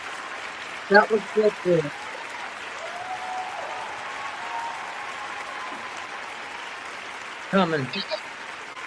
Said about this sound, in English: Statement that deserves a hand clap.